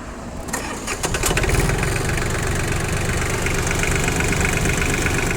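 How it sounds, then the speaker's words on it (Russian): A cold Yanmar F22 mini tractor's diesel engine cranks briefly, catches and settles into a loud, steady, knocking idle close by, with no voices over it. "осталось только запустить, дабы было понятно,"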